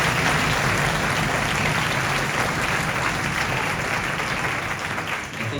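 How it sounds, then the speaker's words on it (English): Dense, continuous audience applause at a school winter orchestra concert, steady throughout and tapering slightly near the end. "A round of applause for them."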